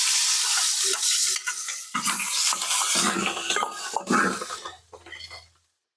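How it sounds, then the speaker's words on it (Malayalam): Loud, dense sizzling and crackling of mustard seeds frying in hot oil, with stirring scrapes, fading out near the end. "അതിനായിട്ട് നമുക്ക് കടുക് ഇട്ട് കൊടുക്കാം"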